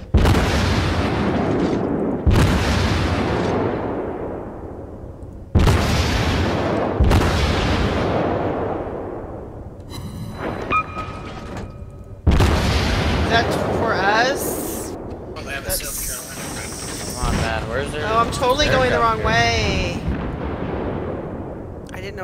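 Heavy warship guns boom repeatedly during World of Warships gameplay. Loud, deep blasts with long rumbling tails arrive every few seconds, followed by a busier stretch of shots and impacts, while a player talks over the action.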